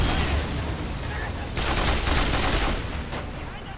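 Gunfire in the PC game Mercenaries 2: World in Flames comes as a dense, loud fusillade of rapid shots, with game voices speaking over it.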